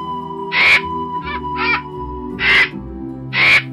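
An animated crow caws in several harsh, separate bursts, with a short paired call in the middle, over a low steady background.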